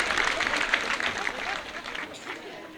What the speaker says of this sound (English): We deserve a clap.